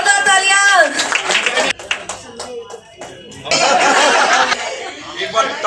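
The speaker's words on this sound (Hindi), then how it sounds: "जोरदार तालियां।" At a club installation ceremony, a crowd breaks into loud applause mixed with chuckles and laughter, following a stretch of a voice talking and brief pauses.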